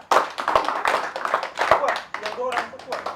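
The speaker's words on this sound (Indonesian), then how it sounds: "Kasih tepuk tangan" A small group at an arts community talk claps in a brief, loose scatter of hand claps, close and moderately loud, mixed with speech.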